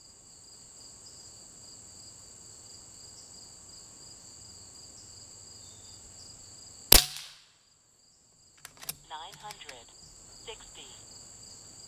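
A single sharp crack from an Umarex Zelos regulated air rifle cuts through a steady chorus of crickets, followed by a brief hush and then faint clicks of handling and reloading.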